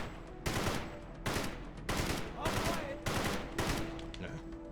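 Machine gun in the video game Halo CE with the XAM mod, on the Pillar of Autumn map, firing six dense, loud bursts of a few rounds each in quick succession, close and dominant.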